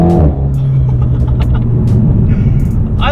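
Engine of a 2019 Alpine A110 sports car, a loud continuous low rumble with a steady droning note, heard close up without talk.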